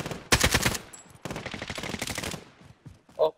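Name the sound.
gunfire in the video game Warzone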